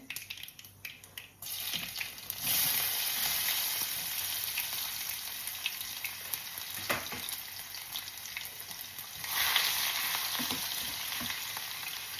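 Dried curry leaves fry in hot oil for an apple pickle, hissing in a continuous sizzle. The sizzle swells into louder bursts as leaves drop in early on and again near the end, with a few light crackles between.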